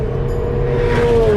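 Alpine A110 mid-engine lightweight sports car driving, its engine a steady, fairly loud drone with a rising whine near the end, heard from inside the car.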